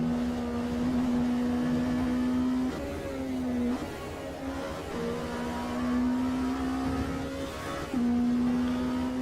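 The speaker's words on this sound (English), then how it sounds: "Love that transmission sound. The whine on the slowdown." A race car's transmission whine on slowdown in Automobilista 2: a steady, prominent tonal whine over broad engine and road roar, stepping in pitch several times as the car slows. No voices.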